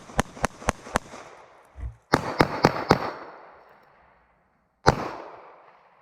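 Pistol shots crack sharply in a shooting drill, four quick shots then four more after a pause, each followed by a ringing echo, and one last single shot.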